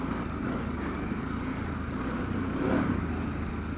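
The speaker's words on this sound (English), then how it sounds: "Just blipping that throttle, feeling good on this thing" A Harley-Davidson Pan America motorcycle engine rumbles steadily while riding through a rocky off-road section, with a brief rise in revs near the end. The rumble stays close and fairly loud, mixed with rough rushing noise and no talking.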